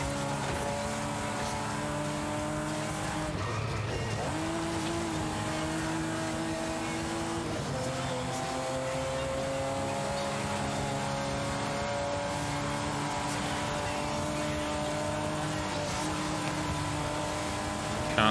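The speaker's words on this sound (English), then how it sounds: "Proper battle of the 90s supercars here." Ferrari Testarossa and Dodge Viper engines race in the Forza Horizon 5 video game, loud sustained engine tones rising and dropping through gear shifts, with a brief dip midway and steady revving throughout, no talk.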